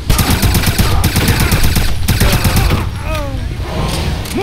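Dense, rapid automatic gunfire in the video game Wolfenstein (2009), loud bursts of rattling shots with a shouted voice over the din, easing slightly toward the end as other battle noise continues.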